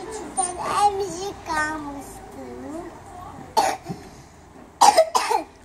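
A child coughs in a few sharp, close bursts between stretches of a young voice talking, with the coughs clustered near the end.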